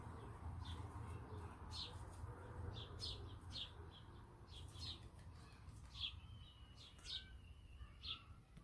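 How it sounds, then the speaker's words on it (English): Birds chirp and tweet repeatedly in short, high calls at a moderate distance, with a steady low outdoor hum underneath. "A lot of bird activity out here today."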